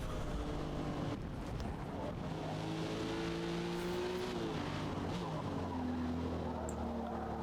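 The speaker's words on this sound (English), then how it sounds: "Car sliding out, keeping the power, controlling it" Race car in the Forza Motorsport video game sliding through corners, engine held loud and steady under power with rising and falling revs and tire skid, continuous and close throughout.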